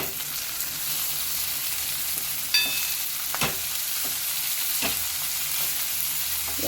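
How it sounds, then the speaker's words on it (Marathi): Wild ghol greens are sautéed with onion in a pan, giving a steady close sizzle with occasional spatula scrapes and clicks against the pan. "भाजी छान परतून घ्यायची आहे।"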